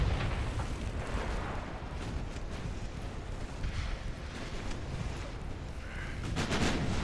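Naval artillery from 11-inch guns in Ultimate Admiral Dreadnoughts, heard as a steady roar of distant, overlapping booms and rumbling detonations that swells slightly near the end, with no pauses.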